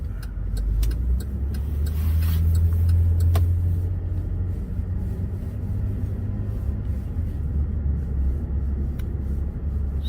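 A car on the road, heard from inside another moving vehicle, with a steady low engine and road rumble throughout and a few faint clicks and ticks, no voices.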